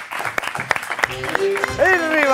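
A studio audience on a Spanish television show breaks into scattered clapping that builds into applause, as a host shouts excitedly and music swells beneath.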